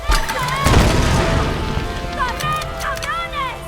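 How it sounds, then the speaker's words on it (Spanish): Gunfire and explosions in the Tomb Raider video game: a loud booming blast followed by rumbling crashes and scattered shots, with bright tonal game effects sweeping over the din. "Nos liamos a tiros mientras todo arde y explota"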